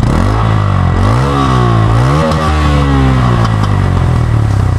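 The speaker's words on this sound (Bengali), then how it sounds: "ইঞ্জিনের সাউন্ডটা একটু চেক করতে হয় যে ইঞ্জিনে" A Yamaha FZ N160 motorcycle engine, with about 1,700 km on it, revs loudly and steadily up close during an engine check, pitch rising and falling through several throttle blips with a mechanical clatter underneath.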